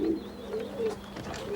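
Pigeons, kept as racing birds by leek growers, coo in soft low repeated phrases close by in a quiet loft, with faint chirps in the background.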